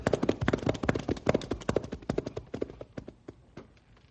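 Several horses set off walking, their hooves clip-clopping in a brisk, overlapping rhythm that is close and clear at first, then slowly thins and fades.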